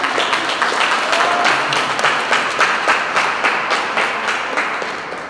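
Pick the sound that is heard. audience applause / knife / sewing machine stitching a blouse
audience applause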